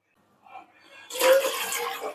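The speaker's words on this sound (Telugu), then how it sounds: "7 గ్లాసుల నీళ్ళు పోసుకోవాలి" Water splashes and rushes into a heated pot for a couple of seconds after a brief faint clatter, close and fairly loud.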